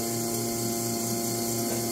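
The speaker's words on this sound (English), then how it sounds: "we're going to lock that down and start tumbling our product" Biro VTS 500 vacuum tumbler with 500 pound capacity, a steady mechanical hum with tonal machine whine and faint rhythmic grinding as the drum locks and begins to tumble, continuous and fairly loud.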